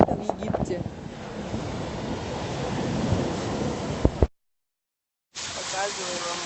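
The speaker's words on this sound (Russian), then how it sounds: "Показываю вам море." Sea waves wash onto the shore in Egypt with a steady roar mixed with wind buffeting the microphone, cut by a second of silence, and a person speaking over the surf at the end.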